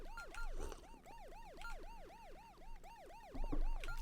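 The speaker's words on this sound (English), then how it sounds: "The police siren also sounds infinite." A police siren in a video game level, wailing in rapid repeating up-and-down sweeps that cycle evenly and continuously. It is faint, with some low thumps beneath and no speech.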